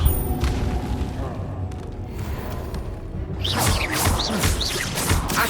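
A Levioso spell cast in Hogwarts Legacy on PS5 lands as a muffled boom with whooshing magical swishes, followed by bright chiming sparkles over rumbling game ambience.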